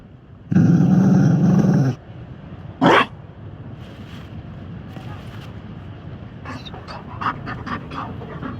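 A Mabari war dog in Dragon Age Inquisition pants steadily in a loud, close burst, followed by a short growl and then fainter snuffles and yips under a low background.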